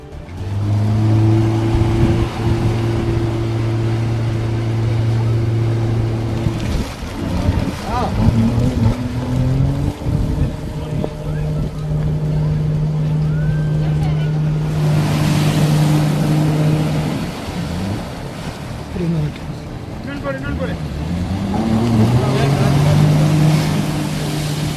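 Speedboats carry tourists across the lake at the Pykara boat house, their engines droning steadily and loudly, rising and falling as they rev and move off.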